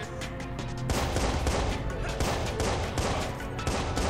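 Dense, continuous gunfire in the video game Watch Dogs, with bursts overlapping into a steady loud barrage for several seconds and faint speech mixed underneath.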